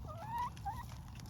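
A pet hen clucks and trills in a couple of short rising warbles, close by over a steady low background rumble, with no talking during the calls.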